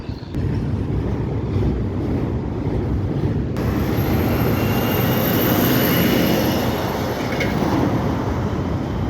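A CSX freight train rolls past on the Delair Bridge, a steady loud rumble of wheels and cars that holds for several seconds, with a faint high squeal rising partway through.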